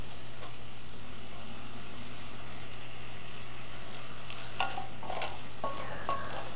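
Mushrooms and bell peppers cooking in a pan for a curry give a quiet, steady sizzle close by. A few brief clinks and stirs come near the end, with no talk.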